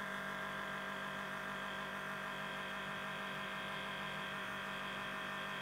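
Steady hiss and hum of an Everra makeup airbrush running on air only to dry makeup, a constant close whir that holds unchanged throughout with no talking.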